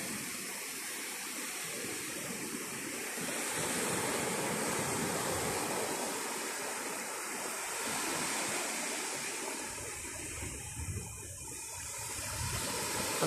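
Steady broadband surf from sea waves at a beach resort with very clear water, a continuous wash and rush that swells and eases slightly, close and fairly loud, with no voices.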